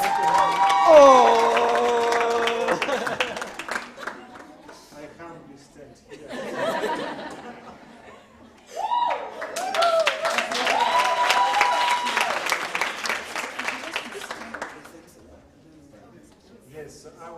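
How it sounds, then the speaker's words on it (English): An award-ceremony audience at a moot court competition final applauds Professor Thomas Mile, with clapping and scattered cheers rising in two loud waves as voices talk and laugh over it. "Let us clap for Professor Thomas."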